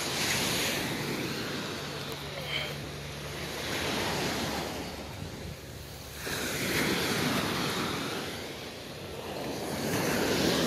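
Ocean waves wash onto a Miami beach, a steady, loud surf roar that swells and recedes over several seconds, mixed with wind buffeting the microphone.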